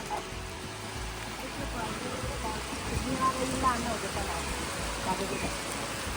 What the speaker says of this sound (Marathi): आता एवढं पाणी घेऊन झाल्यावर पाऊस इलो.